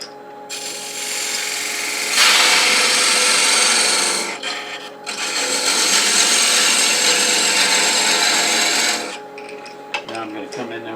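A wooden baby rattle is parted off on a lathe, a steady loud rasping cut that surges for several seconds, pauses briefly, then continues before stopping.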